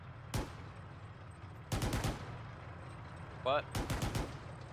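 Combat in the Arma 3 game with a World War II setting: three sharp bursts of rapid gunfire, the later ones rattling like machine-gun fire, over a low rumbling background. A voice briefly speaks between the bursts.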